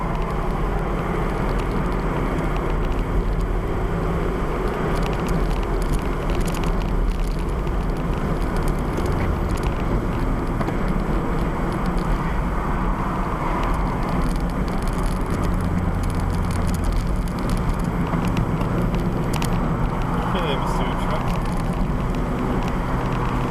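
A 2001 Toyota MR2 Spyder produces a steady engine drone and road rumble from inside the cabin while driving through a corner, low and continuous without sharp changes.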